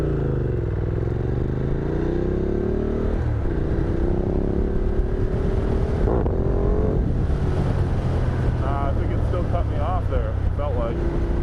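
A Ducati Multistrada motorcycle engine revs during a clutch-up wheelie attempt with traction control cutting in, its drone rising and falling in stuttering surges while people talk over it.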